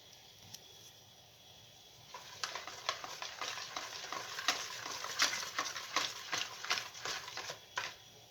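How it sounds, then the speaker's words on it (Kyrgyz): Pancake batter made with ayran being stirred in a bowl, heard as quiet background at first, then repeated close scraping and sloshing strokes with soft clicks against the bowl in an uneven rhythm. "Жакшылап бирдей маска келгиче аралаштырабыз."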